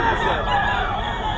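A white Kelso rooster at a gamefowl market crows loudly and up close, one sustained call that fills the whole moment.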